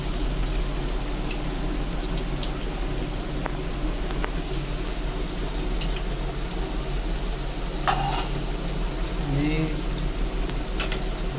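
Chopped onion sizzles in oil with whole spices for a veg Kolhapuri curry, a loud, continuous frying crackle with occasional stirring scrapes and light clinks.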